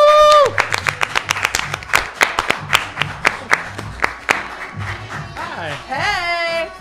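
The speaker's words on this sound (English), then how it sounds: "let's hear a round of applause for Mr." A studio audience claps for a arriving guest on a talk show, with distinct sharp hand claps in a steady rhythm, fairly loud, and music playing underneath throughout.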